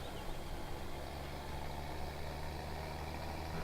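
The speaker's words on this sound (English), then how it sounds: "drive the tractor into the farm" Steady low tractor engine idle from the Farming Simulator 2017 game, a continuous even drone held throughout with no voices.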